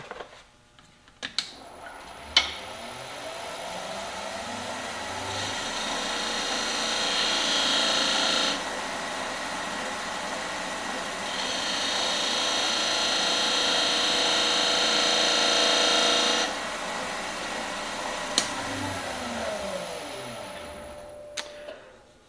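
A wood lathe spins while the point of a skew chisel cuts two narrow rings into a turned wooden 30mm round replica, a steady mid-level whir rising in two longer cutting passes, with small clicks at start and end.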